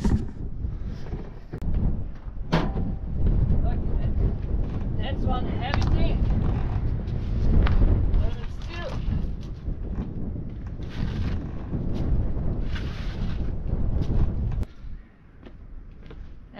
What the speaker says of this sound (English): let me show you the strong wind, the power of the wind.